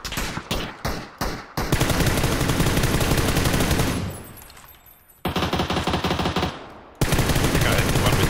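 Automatic rifle fire in PUBG: rapid close bursts of shots, a few separate single cracks first, then long sustained strings of fire broken by a brief lull, loud and dense.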